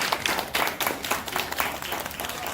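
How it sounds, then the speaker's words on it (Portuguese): Audience claps and applauds for a storyteller's performance, a short burst of dense, fairly quiet clapping with no voice over it. "Palmas para o cabrito."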